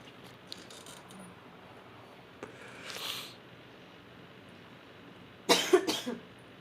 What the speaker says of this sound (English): Sorry about all the coughs today, you guys.